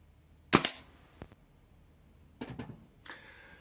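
A PTS Mega Arms gas blowback airsoft rifle goes off with one loud, sharp close crack and a quick clatter. A brief gap follows, then two fainter bursts of mechanical clacking and gas release.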